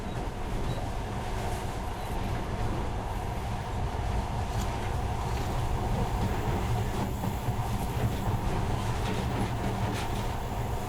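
Steady monorail train ride in the video game Metro Last Light, a continuous low rumble with a faint rhythmic rolling undertone throughout, close and even in level with no pauses.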